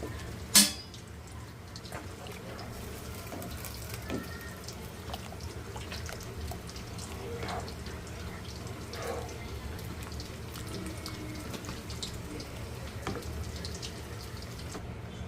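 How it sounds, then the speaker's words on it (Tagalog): Hot water pours steadily into a pot of mung bean soup, a continuous splashing stream after a brief clink at the start. "Mainit na tubig na ang inilagay ko para mabilis nang kumulo."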